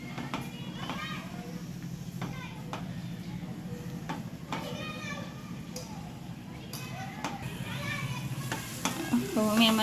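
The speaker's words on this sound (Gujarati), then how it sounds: "નાળિયેરનો પાવડર એકદમ સારી રીતે મિક્સ કરી લીધું છે અને કઢાઈ પણ સુકવા લાગી છે" Desiccated coconut is stirred in a dry kadai while mango barfi is being made. A spatula scrapes with a continuous soft rasp and a faint sizzle, with someone talking over it.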